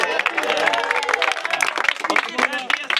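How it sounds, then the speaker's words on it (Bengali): Clapping rises from a crowd at a busy cattle market, with dense rapid hand claps blending with a steady hubbub of voices and people talking nearby. "এটা হাতে তালি হোক।"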